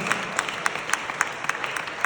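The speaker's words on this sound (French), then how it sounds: "On l'applaudit chaleureusement." A conference audience claps warmly for a guest, a dense, steady wash of many hands with a few sharper claps standing out, lasting the whole short stretch without any talking.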